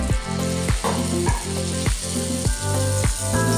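A ladle of rice and lentil batter for puffy Bengali rice nasta fries in hot oil, giving a loud, continuous bubbling sizzle punctuated by a run of quick, evenly spaced clicks and taps.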